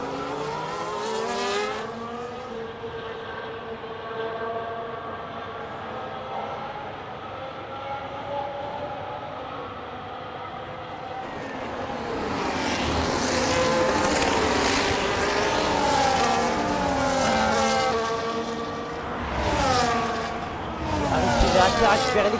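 Race cars running side by side through a bend on a circuit, their engines droning steadily and then swelling into a louder, rising roar as they close in, heard under excited French commentary.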